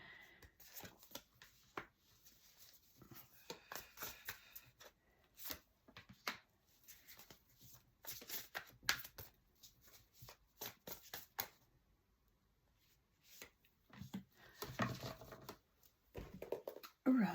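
Tarot cards are shuffled close by, heard as quiet, irregular bursts of riffling and flicking with short pauses between handfuls.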